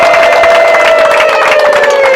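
Crowd of wedding guests cheering and clapping at a Rwandan wedding, a steady loud mass of voices and applause with a sustained whistle-like tone running through it.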